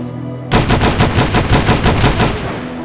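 Rapid automatic weapon fire in the zombie survival game Dawn of Zombies: Survival, a loud, dense burst of shots starting abruptly after a brief quiet lead-in and continuing steadily to the end.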